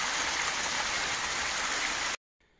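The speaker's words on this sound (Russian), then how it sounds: "водопад у нас по пути." A waterfall beside a mountain hiking trail near Beldibi, Turkey, roars as a dense, steady rush of falling water heard up close, then cuts off abruptly into near silence.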